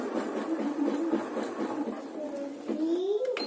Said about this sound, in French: Je commence à coudre un petit peu pour le bloquer.